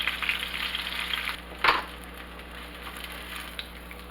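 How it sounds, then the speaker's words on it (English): Salmon skin frying and crisping in a pan gives a steady, close sizzle with a brief louder crackle burst partway through, then settles into an even hiss with no talking. "I'm going to let this skin crisp a little more"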